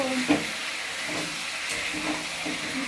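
Chicken pieces frying and being stirred in a pan with spices, a steady broadband sizzle and hiss with a few clinks and scrapes of stirring, close and moderately loud throughout.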